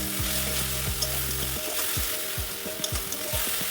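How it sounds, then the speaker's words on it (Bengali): Onions frying in a pan with a paste of ginger, tomato and green chili, a constant bright sizzle with low rhythmic stirring scrapes and occasional spatters, close and steady. "মশলার যে পেস্টটা বানিয়েছিলাম, আদা, টমেটো, কাঁচা লঙ্কা, তো সেটাই দিয়ে দিচ্ছি, দিয়ে ভালো করে কষিয়ে নেব"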